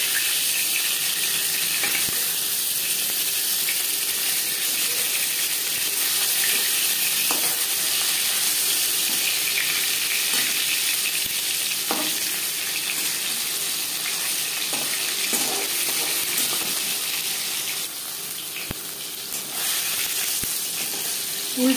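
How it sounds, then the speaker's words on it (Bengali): Katla fish pieces frying in oil, with a steady close hiss and crackle of sizzling that runs unbroken throughout, dipping briefly near the end. "একটা সাইড ভাজা হয়ে গেলে অপর সাইডটা উল্টে দেবো।"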